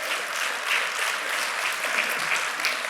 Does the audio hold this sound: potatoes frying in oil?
no